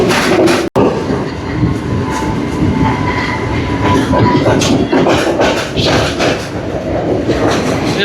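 An express passenger train rolls along the rails out of Colombo toward Kataragama, a loud, close, continuous rumble with rattling carriages and clicking wheels, uninterrupted apart from a momentary dropout near the start.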